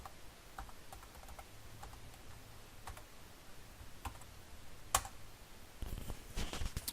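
A password is typed on a computer keyboard: quiet, irregular key clicks tap along in a sparse run, close and soft, ending in a slightly busier burst of keystrokes.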